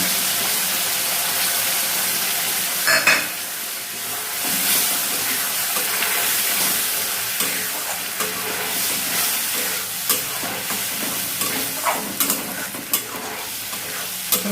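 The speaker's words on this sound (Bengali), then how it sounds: "আজকে এই মশলাটা ভালো করে কষিয়ে নেব" Spice paste fries in a pan for an onion-free, garlic-free potato and paneer masala. A continuous close sizzle carries repeated scraping stirs, with bursts of louder spatter and clatter in the later part. No voices.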